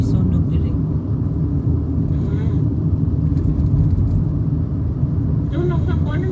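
Road traffic heard from inside a moving car on suburban Adelaide roads near Eden Hills, a constant loud low rumble of tyres and engines with voices faintly over it.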